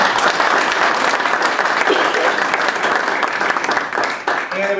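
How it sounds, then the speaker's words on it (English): Audience applause at a community panel discussion on video gambling, loud sustained clapping from a crowd for the organizers, with some murmuring voices mixed in and a brief voice near the end. "we should really applaud them"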